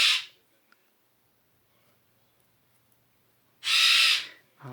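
A bird squawks loudly indoors, one harsh call at the start, then quiet, then a longer raucous squawk followed by another short cry, close and piercing.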